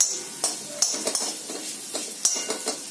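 Vermicelli is roasted in ghee for kheer, with a spoon scraping and stirring it in the pan in quick, repeated strokes over a light sizzle, close and clear.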